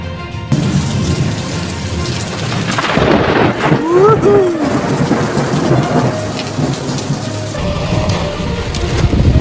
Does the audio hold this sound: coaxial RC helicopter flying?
no